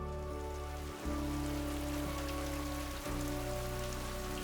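Steady monsoon rain pattering over rice paddies in Thailand, a dense continuous wash with a low hum underneath that briefly dips twice.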